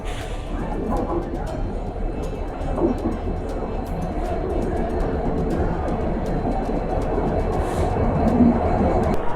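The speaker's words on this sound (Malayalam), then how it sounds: "അങ്ങനെ എൻ്റെ ട്രെയിൻ വന്നു തുടങ്ങി" A train arriving at a station rumbles steadily with a continuous low roar and faint rail clatter, a loud, close presence that builds slightly toward the end.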